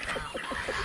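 Geese on a small farm honk in a short burst of several quick, nasal calls close by, with other fowl noise around them.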